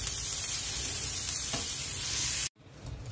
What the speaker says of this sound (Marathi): अशाच पद्धतीने भाजी भाजायची आहे, जेणेकरून त्याचं पाणी सगळं निघून जाईल